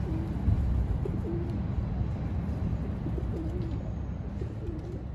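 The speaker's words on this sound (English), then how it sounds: "These pigeons?" Street pigeons coo in low, repeated throaty phrases, several soft calls spread across a few seconds against a steady outdoor background with no talking.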